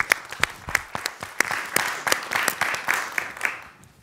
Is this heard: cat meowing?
no